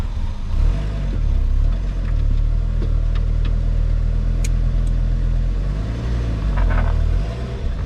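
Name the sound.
engine running after starting, clutch not stuck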